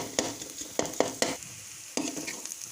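Ginger garlic paste frying in a pan for restaurant-style gobi manchurian, with close short bursts of sizzling and stirring scrapes in an uneven rhythm, no talk.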